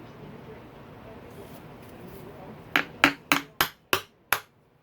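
A metal punch is tapped with a hammer to free a stuck part on a KTM 250SXF motorcycle engine during a top end job, six sharp close metallic strikes in quick succession after a quiet workshop lull.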